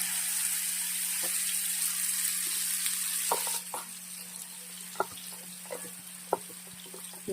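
Chopped vegetables and a pinch of asafoetida land in hot oil, a bright sizzle that drops suddenly partway through to a quieter fry with scattered ticks and taps of stirring, no speech.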